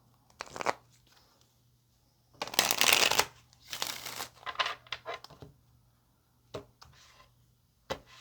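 Tarot cards shuffled in several bursts: a short riffle, then longer, louder rustling shuffles, followed by a few quick taps and flicks in a quiet room.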